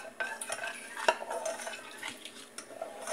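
A spoon stirring condensed milk in a pot, with soft scraping and scattered light clinks of metal against the pan, quiet and close.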